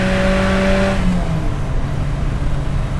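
A 1978 Ferrari 308 GTB engine revs high and then eases off, loud and close, with steady harmonic engine tones dropping in pitch after the first second.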